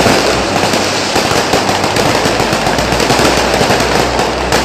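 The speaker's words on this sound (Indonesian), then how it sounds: "mendengar suara keras dari letusan kembang api yang berasal dari luar rumah" Dense, continuous crackling and popping of fireworks exploding, loud and close, with rapid bursts overlapping throughout.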